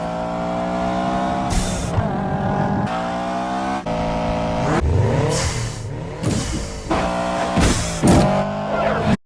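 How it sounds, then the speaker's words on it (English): A car engine revs repeatedly in sharp bursts, the pitch rising and falling with each throttle blip, loud and close throughout with brief drops between revs; the car is presented as an Eclipse Spider. "the super rare and unique sounding Subaru Eclipse Spider"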